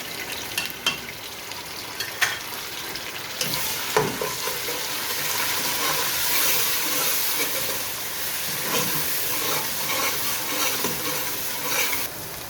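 Chilies and onions fry in a pan for a goat head dish, a dense hissing sizzle punctuated by spoon scrapes and clacks at first, then settling into a loud steady crackle close by.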